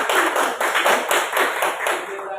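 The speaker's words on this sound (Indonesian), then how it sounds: "Bagus, tepuk tangan." Brief, steady applause from a group of students in a classroom, clapping for a student group after its presentation, with rapid overlapping hand claps at close range.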